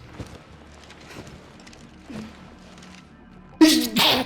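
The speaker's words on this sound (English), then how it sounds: "Oh my gosh. Another sneeze." Soft murmuring voices, then one sudden loud sneeze bursts out close by at the very end.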